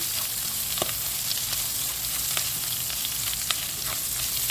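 Onion and garlic sautéing in a pan with pork for pakbet, a loud continuous close sizzle with faint occasional ticks from stirring, no voices.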